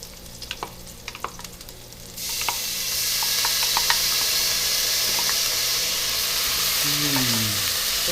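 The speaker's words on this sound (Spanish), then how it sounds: "Solo lo vamos a dejar un poco que se fría para poder agregar la cebolla rallada." A mixture sizzles and fries steadily in a pan before grated onion is added, a loud continuous hiss that swells after a couple of seconds of scattered clinks and stirring. Brief tonal squeaks appear near the end, with no talking.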